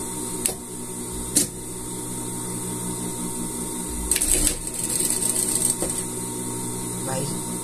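A sewing machine stitching a pet outfit runs in steady rapid bursts, with a few sharp clicks between runs as the fabric is turned, fairly close and loud.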